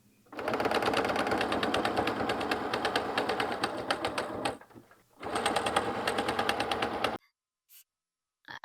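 A sewing machine zigzag-stitches a jelly roll fabric coaster, giving a rapid, even mechanical chatter in two long bursts with a short pause between them, then a few faint clicks after the machine stops.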